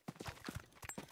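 Horse hooves clip-clop at a steady walking rhythm in the video game Cuisine Royale, about eight hoof falls in quick succession, fairly close and moderately loud, with no talk over them.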